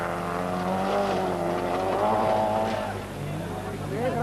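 A Škoda Favorit 136L rally car at the 1992 Rally Saturnus on Krim drives past, its engine droning and shifting in pitch as it goes by, heard beneath a commentator's talk.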